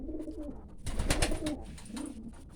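Pet pigeons out in the snow coo softly and close by, a short run of low rolling calls with a brief rustle in the middle.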